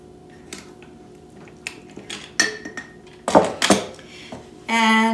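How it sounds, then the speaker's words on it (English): A home-size butter churn with silicone paddles being opened: scattered light plastic clicks and clatters, growing louder, with a sustained rattling scrape at the end. "open the butter churn."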